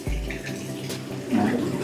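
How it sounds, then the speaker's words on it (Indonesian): Water runs steadily from a tap at a semi-outdoor koi pond filter setup, a close, continuous splashing gush with a brief surge near the end. "Terus di sini ada keran juga nih."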